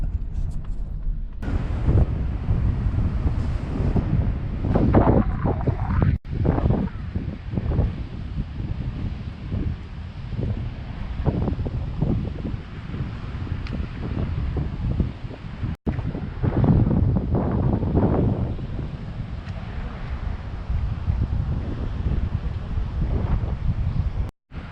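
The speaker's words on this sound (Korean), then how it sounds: "파도 소리가 굉장히 요란하고요" Loud, continuous surf crashing on an empty beach on a rainy day, with strong wind buffeting the microphone throughout and steady roaring wash from start to finish.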